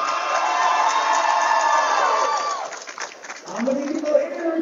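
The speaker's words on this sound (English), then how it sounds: "How many people here are cheering for James Bugs?" A basketball game crowd cheering for James Bugs, a sustained roar of cheers and shouts that fades, followed by a voice speaking over the remaining murmur.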